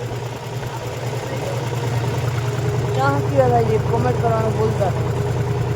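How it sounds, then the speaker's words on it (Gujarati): A stopped tractor idles with a steady low, even engine drone running throughout, while someone talks over it in the foreground. "તો અત્યારે આપણે ટ્રેક્ટર થોડુંક ઊભું રાખ્યું"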